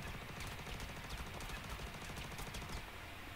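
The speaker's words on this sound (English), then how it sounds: "Four shots at him and he did nothing." Gunfire during a ship boarding in the space game Star Citizen, a steady stream of rapid shots and sharp cracks over a constant noisy background with no pauses.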